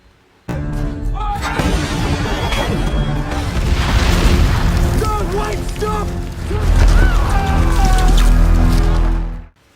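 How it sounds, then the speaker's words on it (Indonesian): Mortar rounds from an artillery barrage boom and rumble heavily in a war film battle scene set at Long Tan, with dense continuous low-end blasts, layered effects and a voice heard through the noise. "Smith meminta kepada divisi artileri untuk menghujani titik koordinat dengan mortir"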